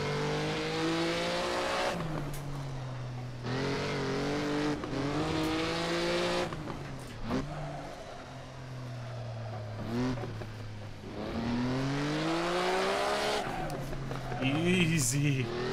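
Maserati 250F racing car lapping Monaco in a sim game, its engine note rising through the gears and dropping sharply on each shift or lift, with brief tyre scrubbing and someone talking over it throughout.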